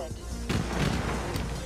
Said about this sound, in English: Oh my god! Fireworks.